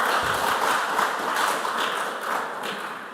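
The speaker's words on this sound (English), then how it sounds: "Please clap for them." An audience at a school quiz semi-final between junior high school teams gives a short burst of steady clapping, moderately loud and continuous, fading slightly toward the end.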